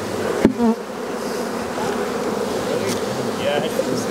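Honeybees buzz steadily around an opened hive during an April inspection, a dense continuous drone close by, with a brief knock of hive equipment near the start.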